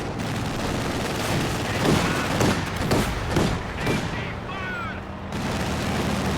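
Gunfire in Company of Heroes 2 as a Grenadier fights Soviet conscripts: dense, overlapping rifle and machine-gun bursts with heavy thuds rattle on steadily throughout, loud and close, with a brief whistling sound near the end.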